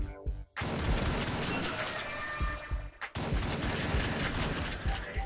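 Dense, continuous gunfire from the top-down shooter game Jydge blasts through walls, with rapid overlapping shots and impacts running almost unbroken after a brief quiet start.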